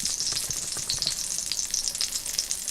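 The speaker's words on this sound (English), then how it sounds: "Maybe I shouldn't have added my soy sauce with my oil." Soy sauce sizzles loudly in hot oil in a pork stir-fry, a dense, crackling hiss with rapid popping spatters, close and unbroken for the whole moment.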